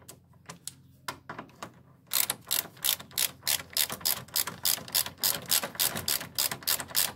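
Ratchet tightening a bolt during a clutch job on a VW Polo 86C, a few slow clicks at first, then a fast, loud, regular run of close ratcheting clicks from about two seconds on, with no talk.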